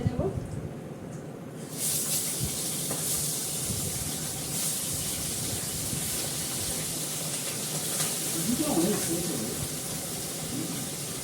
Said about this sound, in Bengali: কাজলি মাছটা ভেজে নেব।